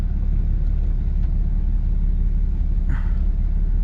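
Cabin rumble of a 2007.5 Cummins diesel truck on a drive, a loud, steady deep engine drone filling the whole moment with a brief faint squeak near the end.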